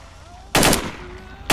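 Gunfire in the video game STALKER: Shadow of Chernobyl, a loud sustained burst of automatic machine-gun fire of about a quarter second, followed by quiet and the start of another burst at the end.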